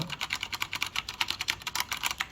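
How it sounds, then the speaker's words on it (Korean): Steady, brisk typing on a Leopold mechanical keyboard with brown switches, a close, continuous patter of crisp key clacks with no talk. "소리를 한번 들어보세요. 이건 갈축입니다."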